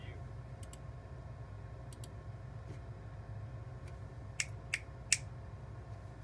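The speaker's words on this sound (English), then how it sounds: "hear me snapping my fingers" Three or four sharp finger snaps, picked up by a security camera's audio, ring out against a quiet background hum, spaced about a second apart and growing crisper toward the end.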